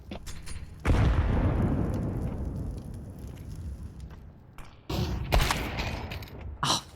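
A loud AWP sniper shot cracks out in a Counter-Strike esports match, followed by a long decaying boom, then further sharp shots and mechanical clatter close by with no voices.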